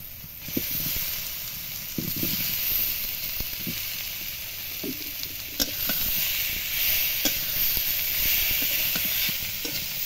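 Fried potatoes sautéed in masala in a pan, a steady close sizzle with repeated scraping and clicking strokes of a spatula at an uneven rhythm.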